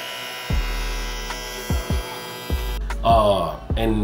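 A small Supreme rechargeable electric hair trimmer hums steadily up close, with intermittent rattling knocks and a louder buzzy stretch near the end.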